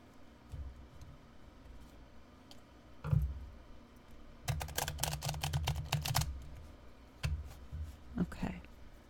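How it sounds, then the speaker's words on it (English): Tarot cards are shuffled in quick bursts of dense, crisp riffling clicks, starting with a few isolated snaps and then building to a rapid flurry before tapering off; the sound is close and fairly soft. "I'm just going to give this a quick shuffle, though."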